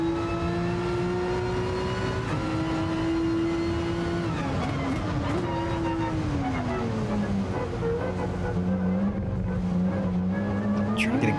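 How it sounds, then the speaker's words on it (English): Simulated race car in Gran Turismo Sport, engine droning loudly and continuously with pitch rising and dipping as throttle is blipped, tire squeal from wheel spin mixed in, close and steady throughout. "And hear the wheel spin."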